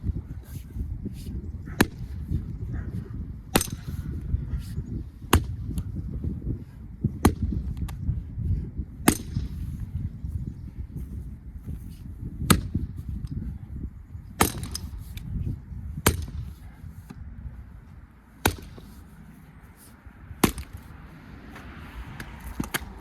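Cherry wood rounds are split with a Van Deusen mechanical axe outdoors: sharp, loud cracking blows land every one to two seconds over a low rumbling background, close and repeated, with no talking.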